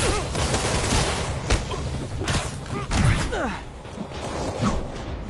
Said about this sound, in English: Way too many bullets flying over there.